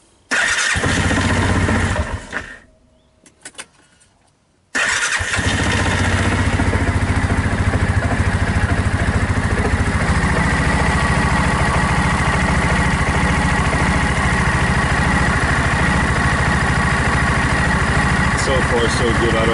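A Cub Cadet Challenger 750 utility vehicle engine cranks and catches after a brief sputtering start, then settles into a loud, steady idle that runs continuously to the end, with no pause in the drone.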